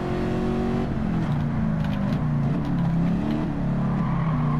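A Ford Mustang Mach 1 in the Gran Turismo video game holds a steady, loud engine drone, its pitch rising and dipping as it revs through several seconds of driving with no talking.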